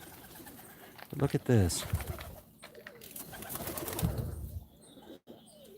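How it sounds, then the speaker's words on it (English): Pigeons coo softly inside a coop holding eggs, low murmuring calls close to the microphone, while someone speaks briefly over them. "Yeah, it's a pigeon coop, and they've got eggs in there."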